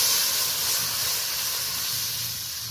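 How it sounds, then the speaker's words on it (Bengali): Hot water poured into a frying spice paste for a Bengali curry sets off a loud, continuous steamy hiss and sizzle at close range, fading slightly over a few seconds with no speech. "এবার আমি গরম জলটা দিয়ে দিলাম।"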